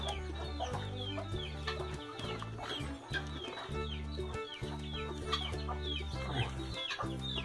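A mother hen clucks close by over her chicks and eggs, a run of short throaty calls repeating steadily over a dense, continuous backdrop of other farmyard sound with no talk.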